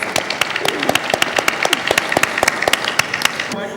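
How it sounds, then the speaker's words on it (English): Audience at a live Bollywood celebrity conversation event gives a round of applause, a dense run of close, sharp claps lasting a few seconds. "Round of applause for that, guys"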